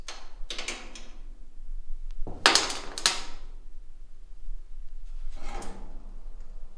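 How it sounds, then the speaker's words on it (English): The tilting front end of a custom car swings open on its strut bar, making a few knocks, clunks and scraping rattles close by, the loudest burst coming in the middle, all over a low background hum. "my front end tilts out of the way"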